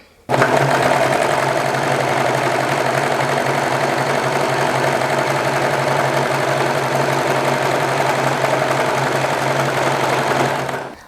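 A serger stitches a rolled hem on knit fabric, its motor buzzing in one loud, continuous, even run from start to stop.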